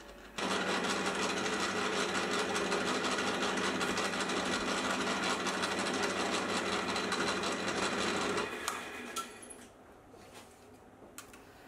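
A machine cuts a helical worm gear profile with a steady, rapid mechanical chatter and whir, close and even for about eight seconds before it winds down into quieter clicks and room noise.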